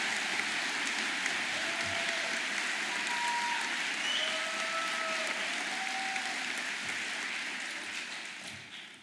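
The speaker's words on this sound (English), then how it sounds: "We're gonna have to work out this applause cadence, folks." Commencement audience applauding faculty in a large hall, a dense, steady wash of clapping that holds for about nine seconds before easing off at the end, with a few faint tones and a voice barely present underneath.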